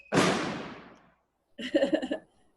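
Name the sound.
fireworks going off outside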